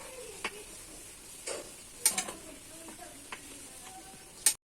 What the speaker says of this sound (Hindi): ज्यादा नहीं तलूं मैं हूँ, हल्का हल्का भूरा हो गया।